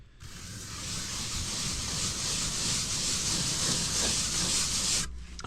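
A trowel rubs fresh render across a facade wall to raise a textured, grainy finish, giving a steady, close, continuous scraping hiss for about five seconds before it stops.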